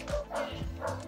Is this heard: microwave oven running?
no